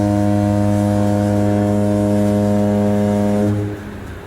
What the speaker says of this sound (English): So the ship sounds her foghorn and